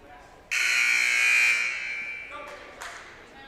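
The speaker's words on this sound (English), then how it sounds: "They'll sound the warning buzzer." At a seventh-grade girls basketball game, a loud electronic warning buzzer blares a sustained tone for about two seconds, fading slightly, followed by a shorter second burst in a gym.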